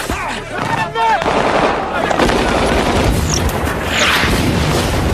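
Gunfire from Serbian soldiers in a war film, repeated sharp shots and bursts layered over a dense battle din with booms, loud and continuous, with voices mixed in briefly.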